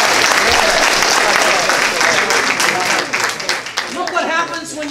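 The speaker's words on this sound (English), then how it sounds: "Let's give them a round of applause." A large audience applauds loudly and steadily, dense clapping filling the room before thinning into scattered claps and some crowd noise toward the end.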